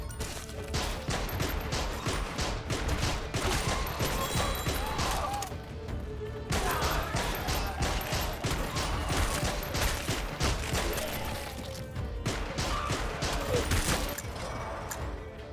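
A zombie survivors video game fires a pistol in dense, rapid rounds layered with crashes and impacts, a busy continuous barrage of game gunfire at steady loudness with only a brief dip partway through.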